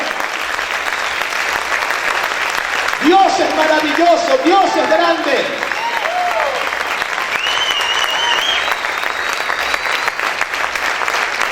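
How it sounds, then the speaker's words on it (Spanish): A church congregation keeps applauding loudly through a worship service, a steady wall of clapping while a preacher's voice speaks over it midway. "Aplaude, aplaude, aplaude fuerte al Señor."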